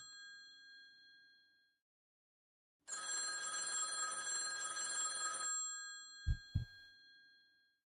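An incoming-call phone ring from the video game Z.A.T.O. sounds as one bright, steady electronic trill lasting a few seconds, followed by two short dull knocks, with no talking.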